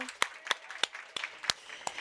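A handful of sharp, separate claps ring out at a steady pace for a guest at the close of an interview, sparse and fairly close, like only one or two people clapping.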